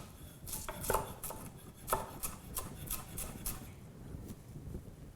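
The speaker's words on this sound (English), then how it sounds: "we're just gonna slice it up like this" A knife slices radicchio thinly on a cutting board, with a series of crisp, close chopping strokes in a quick irregular rhythm that thins out toward the end, no voices present.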